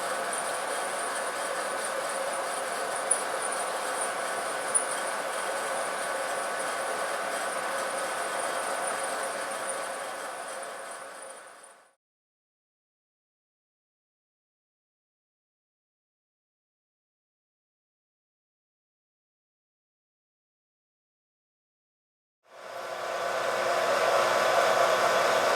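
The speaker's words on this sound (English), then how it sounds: "A little 3-in-1 milling machine lathe combination doing its thing." Small 3-in-1 milling machine and lathe combination running, a steady loud whirring hiss that holds evenly for about twelve seconds, cuts to silence, then starts up again.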